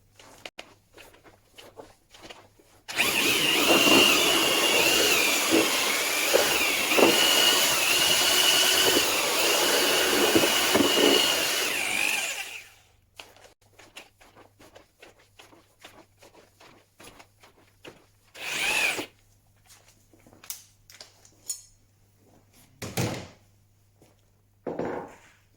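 A power drill with a mixing paddle churns coffee grounds and fine sawdust for briquettes, running loud and steady for about ten seconds before stopping, followed by scattered knocks and scrapes with a few brief bursts.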